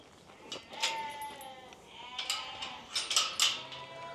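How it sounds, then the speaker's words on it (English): Several farm sheep bleat one after another, wavering cries at close range with short pauses between them and a faint clatter in the background. "We're working on the sheep today."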